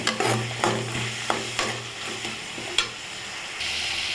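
Tomato, onion and garlic sauté in a pan for a Tirunelveli-style yam tamarind curry: a soft sizzle punctuated by several sharp spoon scrapes and knocks against the pan.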